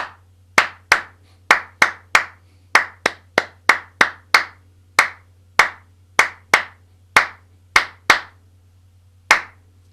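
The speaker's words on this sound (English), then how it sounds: "that will be the clapping warm-up" Sharp, steady hand claps in an even tempo, loud and close, repeated about twenty times as a rhythmic warm-up exercise, with a low steady hum underneath and no talking.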